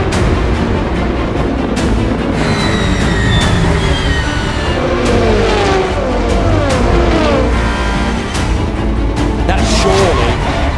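Race cars accelerate at a European Le Mans Series round, several engines rising and sweeping past with pitch changes over roughly ten seconds, loud and close, under excited commentary.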